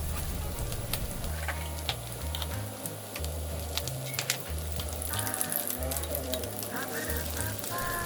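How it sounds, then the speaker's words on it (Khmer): Fish being fried in hot oil for a Cambodian salmon dish, a steady close sizzle and crackle with faint scraping over a low background hum, no talk. "ខ្លាញ់របស់យើងក្តៅហើយទើបយើងបន្ថយបន្តិចវិញដើម្បីយើងដាក់ត្រីរបស់យើងចូល"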